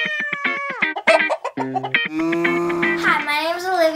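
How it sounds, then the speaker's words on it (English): A pet cat, three years old, gives a few short meows near and clear, mixed with someone talking over and around the sounds. "This is my cat, Honey."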